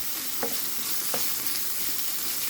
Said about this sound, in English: we just need to get all of these pancetta bits browned off